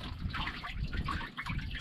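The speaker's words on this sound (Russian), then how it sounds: "этот кран для того, чтобы пополнять вот эту емкость для воды" Water runs from a tap into the water tank of a stone-cutting machine, a steady, moderately quiet trickling and splashing with no talk.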